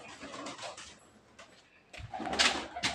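Pigeons coo close by in short, throaty bursts, with soft rustling and fluttering between the calls.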